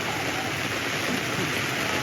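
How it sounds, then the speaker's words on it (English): Rain falling outside, a steady broadband hiss that holds evenly throughout with no voices over it. "Is it raining out there? Yeah, it is."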